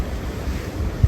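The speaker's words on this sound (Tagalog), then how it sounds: "Ang lakas ang hangin." Steady wind roaring and buffeting the microphone, with low rumbling gusts and a brief stronger thump near the end; no voices.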